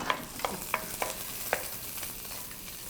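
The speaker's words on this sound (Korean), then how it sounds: "그 다음에 양파를 넣고서 볶지요" Onions stir-fry in hot oil in a pan with a steady close sizzle, and a spatula or utensil scrapes and taps against the pan at irregular intervals.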